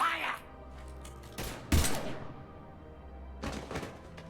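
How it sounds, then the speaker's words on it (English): Gunfire in the video game Mass Effect 3: a few sharp, heavy shots in short bursts, one loud hit near the middle and another cluster at the end, with a low rumbling background. "Now open fire!"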